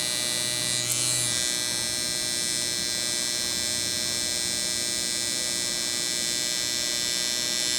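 Permanent makeup eyeliner needle device, fitted with a V-Slope needle, buzzing steadily and closely throughout with a constant electric hum and a brief louder touch near the start.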